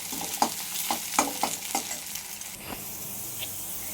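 Egg frying in a hot pan, a steady close sizzle punctuated by a quick run of spatula taps and scrapes, then settling into an even hiss on its own.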